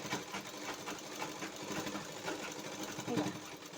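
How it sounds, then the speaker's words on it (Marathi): A sewing machine runs steadily, stitching a blouse seam during a fitting lesson, with a continuous mechanical whir and rapid needle chatter throughout, fairly close and moderately loud. "तर मी ही शिलाई जी आहे ना ती थोडीशी ह्या साईडने घेणार आहे"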